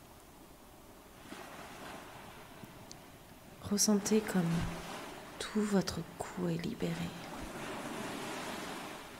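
Soft ocean waves wash steadily in the background of a relaxation session, a faint continuous surf that stays beneath a calm, slow voice speaking.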